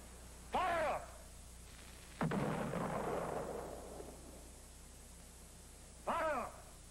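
A sharp musket volley cracks out on command in the town of Chester and rolls away in a long reverberant tail, set between two loud shouted commands.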